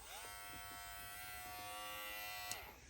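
A JRL 2020T cordless hair trimmer runs steadily, giving a constant close, even electric buzz with a bright whine that holds for the whole stretch, with one brief click near the end and no talking.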